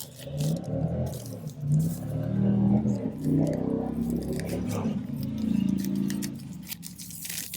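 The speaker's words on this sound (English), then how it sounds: "sorry, motorcycles going past." A continuous low rumble of motorcycle engines passing nearby, swelling and fading as they go by, with no talking.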